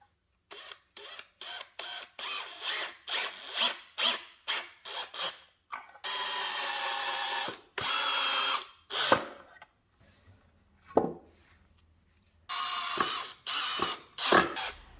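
A power drill drives screws into a plywood cabinet box for a recessed medicine cabinet, coming in repeated short whirring bursts followed by longer sustained runs, close and loud, with brief pauses between screws.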